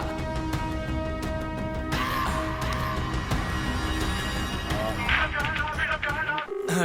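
A phone rings with steady electronic tones over a busy, noisy background, continuing for several seconds.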